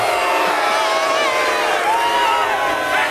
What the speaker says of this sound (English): Thanks for the cheer.